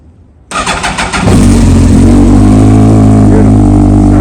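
A Yamaha R1 sport motorcycle engine cranks briefly, fires up with the choke on, and settles into a loud, steady, close idle rumble.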